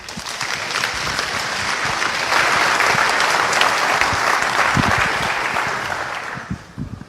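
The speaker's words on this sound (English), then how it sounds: "Please give him applause." Sustained applause from an audience at a FOSDEM 2016 conference talk on Linux kernel interfaces, a full, even roar of many hands clapping that swells in the middle and thins out near the end.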